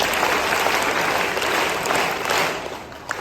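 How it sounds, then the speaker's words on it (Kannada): Sustained applause from an audience gathered for a Kannada-school event, dense and steady for the whole stretch, easing slightly toward the end. "ಜೋರಾಗಿ ಒಂದ್ಸಲ ಚಪ್ಪಾಳೆ ಹೊಡಿ"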